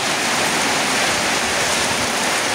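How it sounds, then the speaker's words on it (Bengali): Heavy rain pours down in a dense, loud, unbroken hiss, close and steady throughout with no voices. "প্রচুর পরিমাণে বৃষ্টি শুরু হয়ে গেছে, দেখেন কি পরিমাণে বৃষ্টি"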